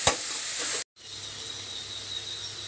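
Tomato sautéing in a pan for a Tamil greens kadayal, a steady close hiss that cuts out briefly then resumes more softly, with no talking.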